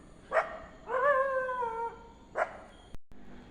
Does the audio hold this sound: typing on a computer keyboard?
no